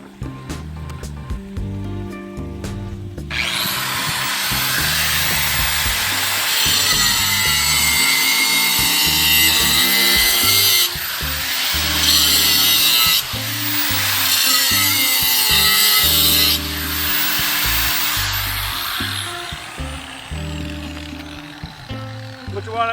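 A loud, gritty power saw scoring flagstone in long continuous passes, with brief pauses in pitch, over a background of music and occasional talk.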